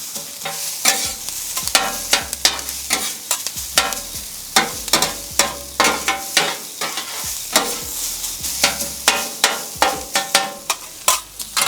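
Fried rice being stirred and tossed on a flat-top griddle for BBQ fried rice, with repeated metal spatula scrapes and clacks in an uneven rhythm over a steady close sizzle, no talking.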